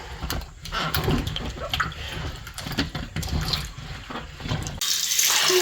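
Apples being rinsed under a running kitchen tap, a steady wash of water splashing over the fruit with irregular drips and splashes throughout, turning into a brighter, louder gush near the end.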